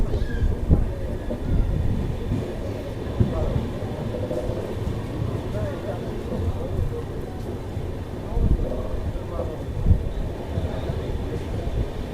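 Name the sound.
Paschim Superfast Express train at Phagwara Junction station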